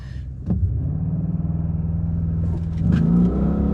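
An Audi RSQ8 launches hard on a slightly uphill run, its engine note surging into a loud, pulsing rumble that climbs and holds, heard up close with no talk.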